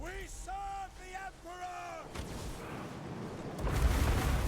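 Cannons and Hellstorm rocket artillery fire in a fantasy strategy battle game, heard as rising whooshing launches followed by heavy, rumbling booms that grow louder toward the end, with pitched game sounds and some speech before them.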